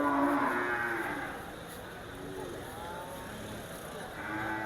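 Water buffalo and cattle crowded at a livestock market in Leon, mooing and lowing repeatedly at close and middle distance over steady crowd and yard noise.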